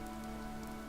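Steady rain falls in Fire Emblem Three Houses, a soft, even hiss of drops on surfaces with no voices, quiet and continuous throughout.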